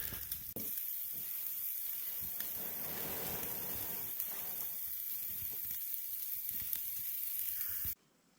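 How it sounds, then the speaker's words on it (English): Ribeye steaks sizzle over a campfire, a steady hiss and crackle that holds at an even level for several seconds before cutting off abruptly. "Got the fire going so we can make some ribeyes for dinner here."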